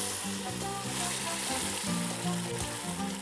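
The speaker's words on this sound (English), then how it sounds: "We're going to put the puree of all the dried chilies that are mixed together into the pot" Pureed dried chilies fry in hot lard in a clay pot for Oaxacan mole, a loud, dense, continuous sizzle heard close up with no talking.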